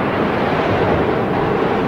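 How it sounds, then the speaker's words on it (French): Waves and strong wind at sea surround the research ship Calypso as she runs before the wind, a continuous loud roar of surf and gusting air with no voices. "Sous l'assaut des vagues"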